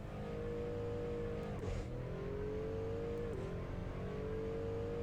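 An SUV engine in the Assetto Corsa driving game, cruising city streets with a steady loud drone that dips briefly around shifts, continuous and without talk.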